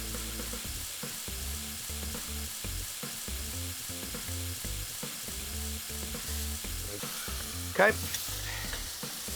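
Cured bacon sizzling in a hot pan, a steady close frying crackle running under a strong rhythmic music bed, with a brief louder clatter near the end and a short spoken word.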